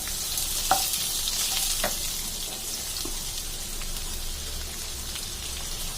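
Chopped onions and garlic sautéing in a pan for an egg roast, a steady faint sizzle with a few soft clicks of a stirring spoon, no voices.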